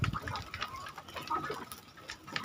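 Free-range village chickens pecking at cassava leaves, with scattered soft clucks and brief bird calls over faint rustling, close and moderately loud.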